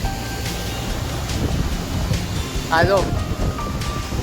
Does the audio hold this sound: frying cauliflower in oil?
no